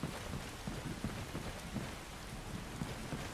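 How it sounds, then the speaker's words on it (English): Rain and thunder in the video game Skyrim rumble steadily, a continuous wash of falling rain with low, rolling thunder swelling faintly underneath. "Oh boy, thunder."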